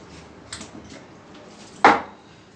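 An RO water purifier's filter housing being opened, giving a sharp close plastic clack followed by faint handling rattles, with no talking.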